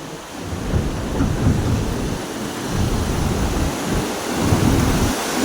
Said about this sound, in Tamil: தண்ணி சத்தத்தை பார்த்தீங்களா?